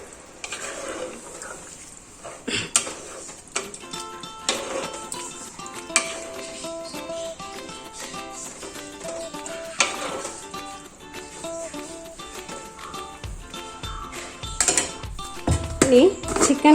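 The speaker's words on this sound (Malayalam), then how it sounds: "ഒന്ന് ഇളക്കി കൊടുക്കാം." Chicken curry stirred in a cooking pot after water is added, giving steady scraping and clinking of a utensil against the pot over a continuous sizzle, with louder knocks toward the end.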